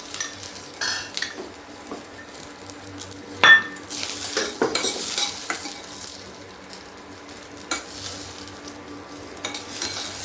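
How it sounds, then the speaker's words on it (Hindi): Peanuts roast in a pan for a curry leaf chutney, giving scattered sharp crackles and pops with occasional scraping and stirring against the metal, fairly quiet and close. "अब देखिए, मूँगफली थोड़ा सा मेरी चिटकने लगी है, आवाज़ आ रही है"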